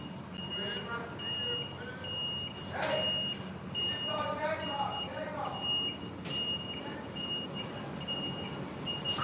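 A large truck's reversing alarm beeps in a regular repeating pattern at moderate distance, with engine rumble and other vehicle noise around it.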